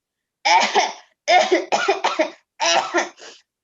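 A voice imitates a cough: several harsh, breathy hacking bursts in quick groups, close up against silence.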